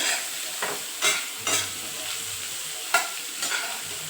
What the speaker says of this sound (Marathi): लसूण पण छान तळून घ्यायचं आहे आपल्याला व्यवस्थित हळद टाकल्यानंतर मी त्यात टाकून घेतले कटुरले